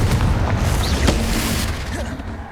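A Confringo spell blast in the Hogwarts Legacy video game, a loud booming burst around the one-second mark within a dense, continuous rumble of combat sound effects.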